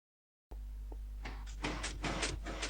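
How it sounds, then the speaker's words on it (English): A Minecraft flying machine starts up and moves off, giving a run of repeated mechanical clunks and whooshing block-push bursts that grow louder over a steady background hum, with no talk. "now the flying machine has been activated, and it will travel off"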